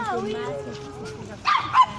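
A dog barks twice in quick succession near the end, after a stretch of someone talking in French, with the barks fairly close and sharp.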